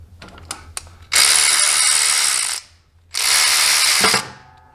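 A ratchet wrench loosens a foot pedal bolt on a Kubota L2501 tractor, with a few light clicks and then two loud sustained bursts of rapid ratcheting separated by a short pause, close up.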